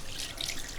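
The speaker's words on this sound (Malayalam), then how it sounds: "ഇനിയിപ്പോ വെള്ളം ഒഴിക്കണം കുറച്ച് ആവശ്യത്തിന്" Water poured into a simmering prawn and raw mango curry in a kitchen pot, a brief soft splashing pour with a brighter splash near the end, no talk.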